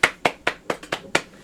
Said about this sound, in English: Everyone give a round of applause for Paradise.